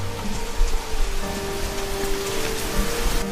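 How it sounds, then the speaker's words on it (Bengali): Rain falls steadily, heavy, as a continuous, even hiss of drops spattering on surfaces, with no voices present. "বৃষ্টিটা তো এসেই গেল"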